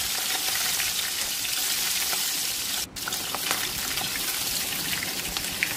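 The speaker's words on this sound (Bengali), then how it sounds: "এপিট ওপিট করে একটু সোনালি রং করলেই আমি ভেজে তুলে নেব, কেননা ইলিশ মাছের মুড়ো তাই বেশি একটা ভাজবো না।" Hilsa fish heads fry in hot oil with a steady, loud, crackling sizzle that continues without a break, and no voices are heard.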